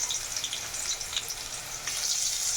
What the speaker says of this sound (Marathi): अनियन फ्राय होत आहे.